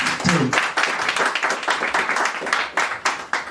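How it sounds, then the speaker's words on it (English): A debate audience at Rongo University applauds as a gubernatorial candidate takes the stage, dense continuous clapping from a crowd, loud and close throughout. "You may clap as Jesse Maina, our first candidate, takes stage."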